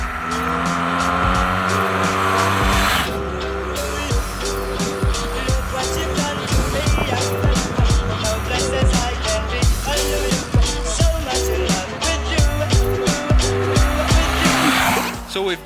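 A motorcycle rides along a road, its engine droning loudly and continuously with rising and falling revs and shifting pitch, close to the listener.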